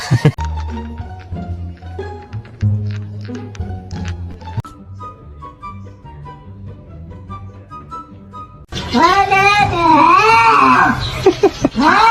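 A cat lets out loud, drawn-out wavering yowls that fill the last few seconds, following a stretch of soft background music.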